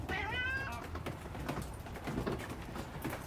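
A cat gives one clear meow up close, then faint rustling and background noise follow.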